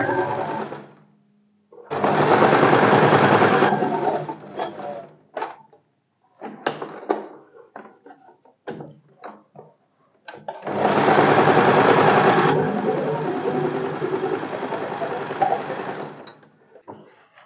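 Sewing machine stitching narrow tucks on a blouse, running in two long loud bursts with scattered short clicks and handling noises between them, no talking.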